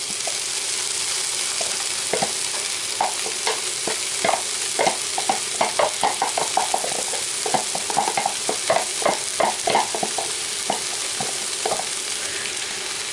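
Onions fry in a pan for a Brazilian chicken pie, giving a constant close sizzle overlaid with rapid irregular spatula scrapes and taps that cluster through the middle, with no talking.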